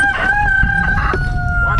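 Chickens cluck and squawk close by, with one bird giving a sustained crowing call over the busy flock.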